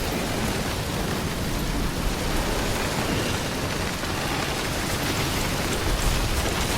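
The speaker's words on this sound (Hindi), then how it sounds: "बारिश भी चालू है" Rain in the video game Death Stranding falls as a heavy, continuous hiss that stays even in loudness from start to finish, with no voices or other sounds over it.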